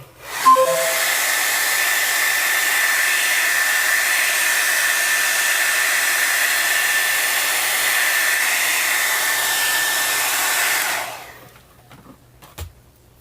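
A hair dryer blows on glued pages of an altered book, a loud steady whooshing hiss that switches on abruptly and runs for about ten seconds before cutting off, followed by faint handling sounds.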